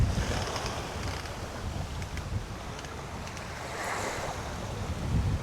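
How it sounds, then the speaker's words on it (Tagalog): Strong wind buffets the microphone while waves wash steadily in the background at Tai O fishing village, Hong Kong, a continuous rough roar with gentle swells and no voices. "lakas ng hangin"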